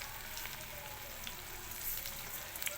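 Chana dal and urad dal fry in hot oil for a bitter gourd pulusu curry, giving a steady, even sizzle with fine crackling pops throughout, close and fairly quiet, with no voices.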